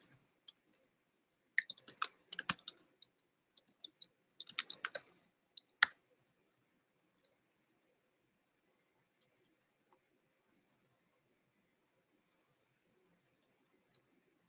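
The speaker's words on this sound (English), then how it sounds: "we have to type in the file name here" Someone types a file name on a computer keyboard: a quick cluster of clicky keystrokes, then sparse, isolated taps trailing off in a quiet room.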